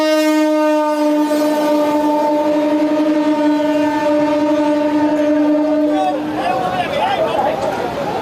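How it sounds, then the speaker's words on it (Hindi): A train on a railway track, its loud sustained horn blaring steadily and close for several seconds before giving way to rumbling track and crowd noise. "चूंकि इसी ट्रैक पर ट्रेन आ रही थी"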